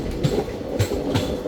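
A train running through green forest in Karnataka, India, its wheels giving a rhythmic clickety-clack with soft thumps of the carriage rolling steadily, heard from on board.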